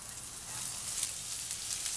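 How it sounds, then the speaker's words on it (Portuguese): Leek sizzling in a hot pan, a steady close hiss of frying with faint crackles throughout and nobody speaking. "nossa panela já está ao fogo, vamos acrescentar o nosso alho poró"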